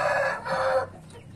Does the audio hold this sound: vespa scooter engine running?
no